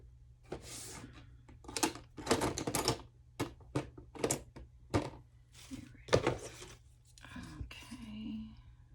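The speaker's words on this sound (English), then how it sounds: "Let me trim this off so get a better." Paper card being trimmed for a handmade postcard craft, a run of crisp snips and cuts in quick irregular bursts, close and fairly loud, with soft thumps of the card being handled and a low steady hum beneath.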